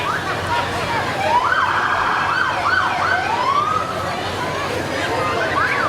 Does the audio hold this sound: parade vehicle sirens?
yes